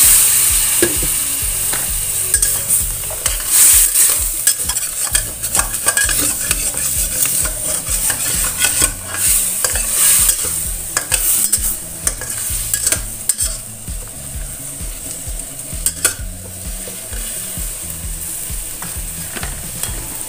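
Corn soup ingredients fry in oil for a clear, savory corn soup: a dense, steady sizzle fills the whole stretch, close and loud, with frequent sharp clacks of a utensil stirring against the pan. No one speaks.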